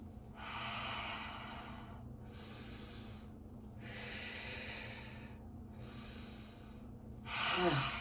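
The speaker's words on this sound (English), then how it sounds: "You can breathe in on the way up and exhale on the way down." Slow, steady breaths in and out during a full-body stretching workout with shoulder rolls, each long airy breath lasting over a second with short pauses between, close and fairly soft, with no talk.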